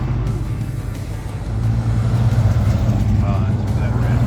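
Classic cars and newer sports cars rolling past in a moving car show along Route 66 in Seligman, Arizona, a steady low engine rumble that swells after the first second and holds loud and close, with a voice talking over it.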